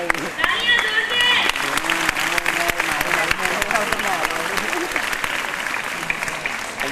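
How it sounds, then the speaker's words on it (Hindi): At a school award ceremony at Jivan Bharti School, an audience claps steadily for several seconds, a continuous, moderately loud applause with a voice briefly audible over it. "तालियां जोर से।"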